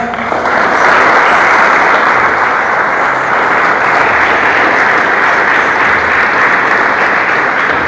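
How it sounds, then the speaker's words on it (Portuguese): A church congregation at a worship service claps loudly and continuously, a thick, even wall of applause filling the whole stretch without pause. "Você pode aplaudir o Senhor bem forte?"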